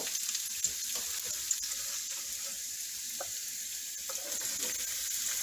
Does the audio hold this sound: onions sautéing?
yes